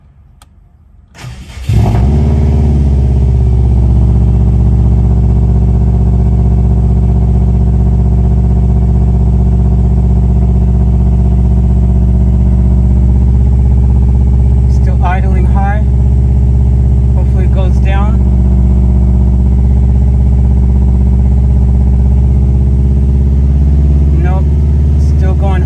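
A Subaru WRX bugeye engine cranks and catches after fuel pump priming, then settles into a loud, steady idle with a slightly uneven rumble from an idling fault; brief voices speak over it partway through.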